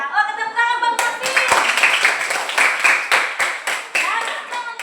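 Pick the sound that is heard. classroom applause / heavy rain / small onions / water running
classroom applause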